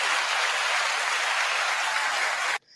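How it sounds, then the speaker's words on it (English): A round of applause from a small group, dense steady clapping close by that runs for over two seconds and then cuts off abruptly into near silence. "Round of applause."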